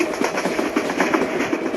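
The Subarna Express runs in the video game Train Simulator Bangladesh, giving a short stretch of steady engine drone and regular clickety-clack pulses with no voices.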